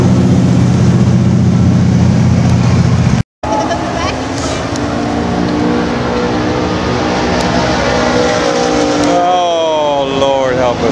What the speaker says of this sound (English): That's the first car down the track.